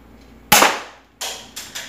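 A repaired C.1911A+ spring airsoft pistol, tested at five meters, fires one sharp, loud snap followed by several quicker, softer clacks in under two seconds, with no talking.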